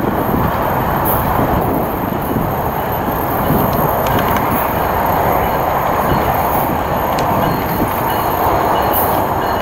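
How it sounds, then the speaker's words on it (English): A southbound Tri-Rail commuter train pulled by two locomotives rolls in steadily, a loud continuous rumble of wheels and engines with faint rail squeals, heard close and alone for the whole stretch. "southbound Trirail is coming in"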